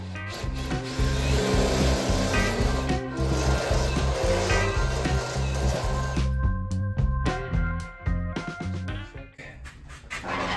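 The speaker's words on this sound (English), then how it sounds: "I'm gonna keep drilling it till we get our 1/2-inch opening." Steady grinding whir of a power drill boring a 1/2-inch hole into a car's reinforced metal bumper area, continuous and loud, with rasping, ratcheting texture that turns choppier and stuttering toward the end.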